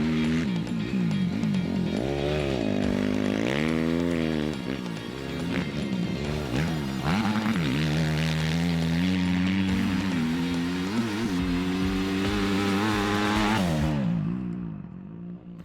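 A cheap old dirt bike engine revs hard on a ride, a loud, continuous buzzing drone that rises and falls with throttle and gear changes for many seconds before cutting off abruptly.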